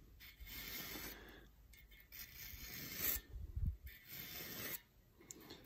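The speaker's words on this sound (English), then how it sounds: "So what I do is I take my finger like this and back the edge up and then just scrape." A hand-held blade scraper rasps back and forth across the surface of a Jaguar V12 engine block, steady scraping strokes with short pauses between them, close and moderately loud.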